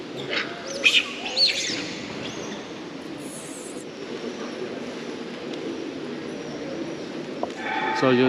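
Birds such as pigeons and roosters at Batu Caves temple in Malaysia: a few bright chirps early on, heard amid a steady, busy outdoor din.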